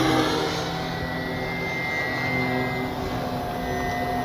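FMS PC-21 Pilatus RC model plane flying at full speed, a steady loud whine that swells slightly near the start and stays high and constant throughout.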